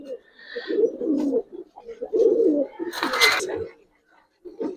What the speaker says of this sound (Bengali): এটা একেবারে ডাকলে আপনার দূর থেকে মনে হইবে কোকা যে কবুতর